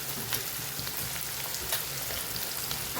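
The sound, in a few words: sautéing cabbage and onion with sesame seeds in a pan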